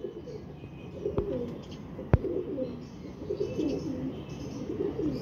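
Female pigeons coo softly in low, rolling repeated phrases, close but quiet, with a couple of sharp clicks or taps in the middle.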